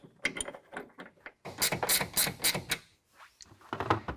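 Bursts of ratcheting clicks come from a ratchet tool tightening the rail clamp of a GatorTrax tonneau cover on a 2019 Ram 1500 pickup, close and fairly loud, with short pauses between runs of turning.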